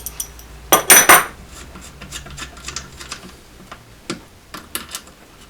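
Metal clicks and scrapes of a small nut being worked loose from the input jack on a Fender Blues Junior guitar amp: a loud cluster of ringing clinks near the start, then sparse faint ticks and taps, with no talk.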